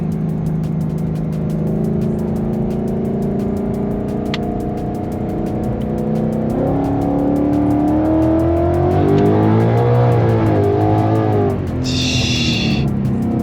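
A supercharged Fox body Mustang accelerates hard in a roll race, its engine note climbing steadily through the gears with blower whine, loud and close throughout, with a brief high-pitched burst near the end.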